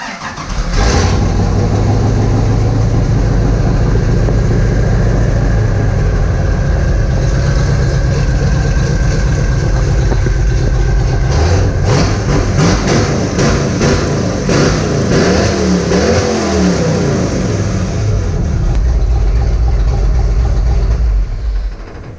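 A 1934 Plymouth rat rod engine idles loudly through a race exhaust pipe, a deep, close, steady rumble with a throaty pulse that wavers slightly mid-run before settling back down, with no talk over it.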